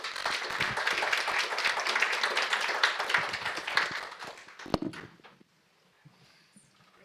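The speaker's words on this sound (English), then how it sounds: "I would like to ask our guests to applaud our panelists" Audience at a panel discussion on future Russian cooperation with China and Iran applauds the panelists, a dense, loud burst of clapping lasting about five seconds before cutting off abruptly to near silence.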